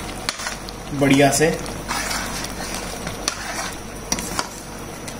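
A spoon stirs garam masala into a pot of shahi rajma, the Punjabi kidney-bean curry, producing soft scraping and gentle sizzling with a few clinks, while someone speaks briefly over it.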